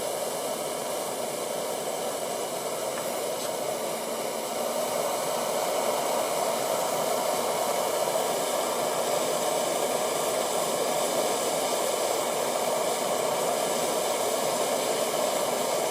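Gas torch flame roaring steadily as it heats a metal ring and decorative shot for soldering, a continuous close hiss with no pauses.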